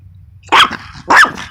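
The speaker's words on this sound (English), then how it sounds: "So that was her dog barking." Dog barking nearby: two sharp, loud barks about half a second apart over a low rumbling background.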